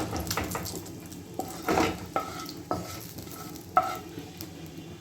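Tempering for khichuri frying in a pan: a steady sizzle runs under repeated stirring, with several sharp metallic clinks from a utensil striking the pot.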